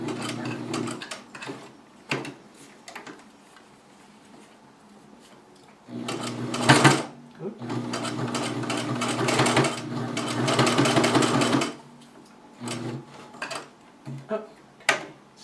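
Home sewing machine stitching a fabric face mask, running in bursts of rapid mechanical whirring with pauses between, the longest stretch near the middle, while someone occasionally talks nearby.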